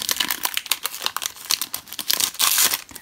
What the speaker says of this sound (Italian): Uso le forbici.